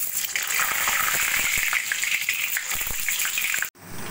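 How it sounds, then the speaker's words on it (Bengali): Potatoes frying in hot oil in a kadai for an easy Bengali mutton curry, giving a dense, steady sizzle that hisses on without talk before breaking off abruptly near the end. "প্রথমে আমি আলুগুলো ভেজে নেব।"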